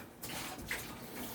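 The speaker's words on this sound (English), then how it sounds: "I think I'm going to have to add a bit more water" Water pours steadily from a tap in a home kitchen while making homemade ketchup, a soft continuous rushing splash, fairly quiet and close.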